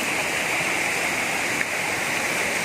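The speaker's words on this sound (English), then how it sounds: "Look at the river continuing to flow." A river rushes over rocks near a waterfall along a hiking trail, making a loud, steady, broad roar that fills the scene without a break.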